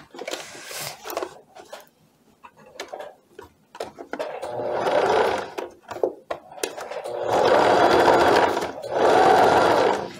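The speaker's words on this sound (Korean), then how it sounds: "역시 오바로크 손에 맞춰서 박음질을 해주는데요." Sewing machine stitching a seam on a linen A-line skirt, starting with short stop-start bursts and clicks, then settling into longer steady whirring runs, close and clear.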